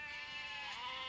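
A cartoon sheep gives a single short, quavering bleat, faint and heard alone.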